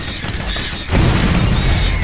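Gunshots in the video game Borderlands sound as dense, loud crackling gunfire and booming, a thick continuous barrage that swells partway through.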